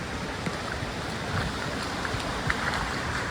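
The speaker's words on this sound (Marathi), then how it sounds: "एक ओढा आहे आता समोर त्याला पार करून जायचं आपल्याला पाणी चालू त्याला भरपूर" A full stream rushes steadily along a forest trek route, a dense, close, even roar of flowing water with no talk.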